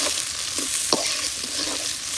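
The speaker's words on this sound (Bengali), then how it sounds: "পেঁয়াজ, রসুন দিয়ে আমি তেলের উপরে দিচ্ছি।" Onion and garlic hiss and crackle in hot mustard oil, a continuous close sizzle with a few sharp stirring scrapes and pops, with no talking.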